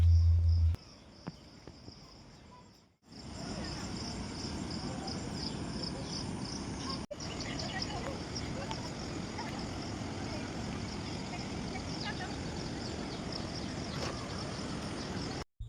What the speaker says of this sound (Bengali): আশা করি তোমরা আওয়াজটা শুনতে পেয়েছো ঝর্নার